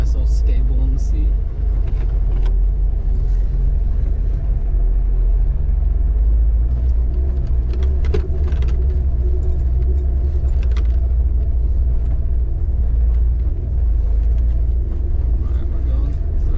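A Jeep TJ crawls along a bumpy off-road trail, engine rumbling low and steady up close, with rattles and jolts from the cabin and a voice talking over it now and then.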